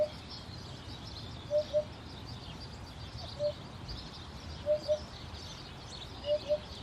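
A hoopoe calls repeatedly, soft hollow paired hoots spaced a couple of seconds apart over steady outdoor background noise.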